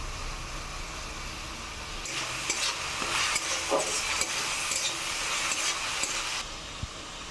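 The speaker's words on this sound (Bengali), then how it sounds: "লঙ্কা বাটা দিয়ে এবার মশলাটাকে আমি ভালো করে কষিয়ে নেব" Spice paste with chili paste sizzling and being stirred in a frying pan while cooking a Bengali chitol fish kalia; steady close hiss with scraping strokes through the middle, quieter at start and end.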